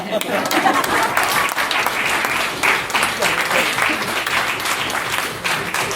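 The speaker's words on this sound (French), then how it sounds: "Bah, applaudissez, quoi!" Loud, sustained applause from a concert audience at a village choir performance, dense clapping holding steady and close throughout with a few voices mixed in.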